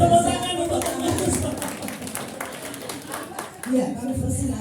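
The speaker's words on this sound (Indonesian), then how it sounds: "tepuk tangan untuk pengurus" A gathered audience at a Christmas celebration claps for the organizing committee, a scattered patter of hands running under ongoing talk and fading into background chatter.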